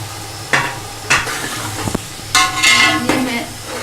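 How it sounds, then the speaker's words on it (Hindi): Chicken frying in masala for yakhni pulao, a close, loud sizzle interrupted by several scraping and clanking stirs of a ladle against the pot. "तो हम इसमें चिकन भुनाई के लिए शामिल कर देंगे।"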